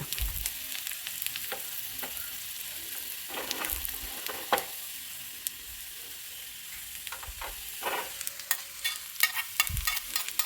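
Sliced onions and green chillies sauté in hot oil with mustard seeds and garlic for a Malayalam horse gram thoran, giving a continuous close sizzle broken by scraping, clinking stirs, with no talk.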